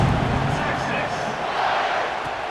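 A football stadium crowd gives a dense, steady roar of many voices after a touchdown, loud and continuous throughout without distinct cheers standing out.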